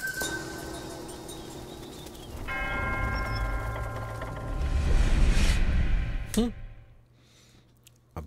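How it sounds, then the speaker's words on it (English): A large bell rings in the video game Black Myth: Wukong, its sustained metallic tones layered over a low rumbling backdrop before a sharp final strike that fades into quiet. "here's the last bell"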